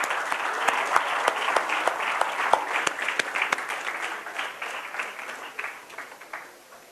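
Conference audience at a DevFest developer event breaks into applause, with individual sharp claps standing out over a steady patter that gradually thins and fades toward the end.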